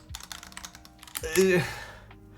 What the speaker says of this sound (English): This is a keyboard I built just for photos. Alright? It's not lubed.